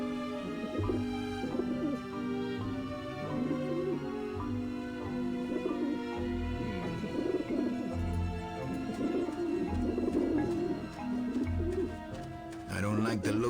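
Pigeons coo repeatedly on a rooftop in the video game Grim Fandango Remastered, their soft rolling calls recurring in bursts over a layered musical soundtrack with held tones.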